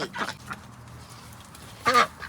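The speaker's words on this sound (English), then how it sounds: "You can't hear me over the ducks." Ducks quack on a farm in two short bursts, one near the start and a louder one near the end, with a quieter stretch of low ambient noise between.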